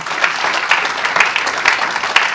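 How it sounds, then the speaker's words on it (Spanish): A church congregation claps during a Sunday morning service, a steady dense patter of hands with a few louder swells, fairly close and continuous with no voices over it. "¿Usted quiere darle un aplauso a Jesús en esta mañana?"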